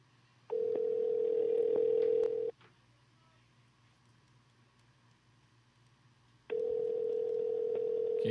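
A telephone ringback tone sounds while a call is being placed: two steady, moderately loud buzzing rings about two seconds each, separated by a four-second gap.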